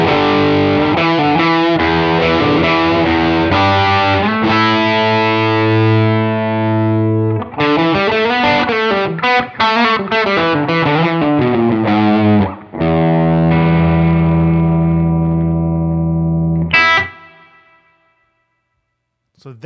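Electric guitar run through a pedalboard of distortion and effects pedals, playing loud sustained riffs and chords with chorus-like shimmer, phrases changing tone every few seconds before ringing out and fading to silence at the end.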